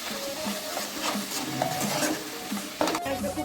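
Onion paste for a Bengali rui fish kalia being sautéed and stirred in a pan, with repeated scraping and knocking of a utensil over a low sizzle, close and continuous.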